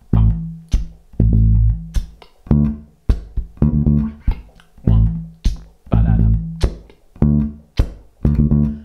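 Bass guitar plays a basic funk groove alone, with punchy, deep plucked notes in a tight syncopated rhythm, short percussive ghost notes and string slaps between the longer held tones, close and loud throughout.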